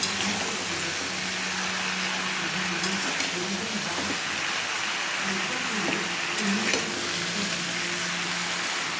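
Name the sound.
vegetables with turmeric and salt stirred in a pan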